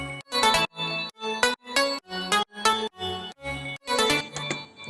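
An FL Studio synth plugin run through EQ, compression and stereo widening plays a bright, full chord pattern. Short rhythmic stabs sound about eight times with brief gaps between them, loud and close, and nobody speaks.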